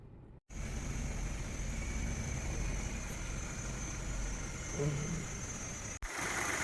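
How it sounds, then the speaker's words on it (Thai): A 2022 Nissan Almera 1.0 V Turbo engine idles steadily with a low, even hum and faint mechanical whine, continuous throughout with a brief dropout near the start. "เครื่องย นต์ก็เดินนิ่งเรียบปกติเลยนะ"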